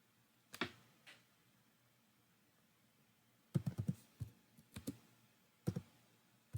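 Java code being typed on a computer keyboard: a couple of isolated keystrokes, a pause, then a quick burst of clicky taps followed by a few scattered presses, close and fairly quiet.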